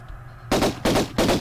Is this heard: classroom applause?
no